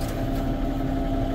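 A Massey tractor engine idles steadily nearby, a constant low mechanical drone with a faint tonal hum and no change in pace.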